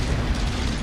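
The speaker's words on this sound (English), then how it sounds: "I'm hearing a lot of explosions." Explosions from battle in the WW2 strategy video game Men of War Assault Squad 2, with mortar fire: a dense, continuous low rumble of booms blending together, loud and steady throughout with no talk.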